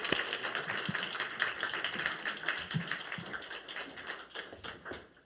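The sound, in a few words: church congregation applauding the missionary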